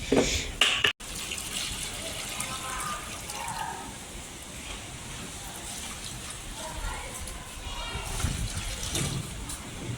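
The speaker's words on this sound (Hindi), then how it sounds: "और मैं अपनी प्यारी प्यारी सी पौधों को दूंगी पानी" Water poured from a container onto potted plants in a home garden, a continuous gushing and splashing stream running throughout at moderate loudness, briefly interrupted near the start, with faint background sounds.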